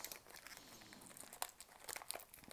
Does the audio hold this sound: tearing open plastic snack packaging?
yes